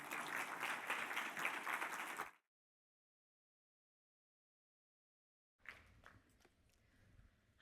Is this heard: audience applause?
yes